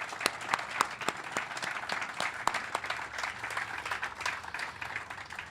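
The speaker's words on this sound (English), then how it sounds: "I'd just like you to give them a round of applause" An audience gives a round of applause at the unveiling of a new visitors and heritage center, a sustained wash of many hands clapping with a few sharper, closer claps standing out, moderately loud and steady throughout.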